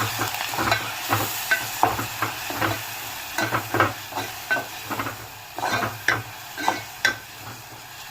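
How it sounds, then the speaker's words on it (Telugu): Onion paste stirred and fried in a pan for an Andhra egg curry, with a steady frying sizzle and repeated scraping strokes of the spoon at an irregular rhythm, close and moderately loud with no talking. "ఇందులోకి ఉల్లిపాయ పేస్ట్ కూడా వేసుకుందాం. పచ్చాసన పోయేంత వరకు మిక్స్ చేసుకుందాము."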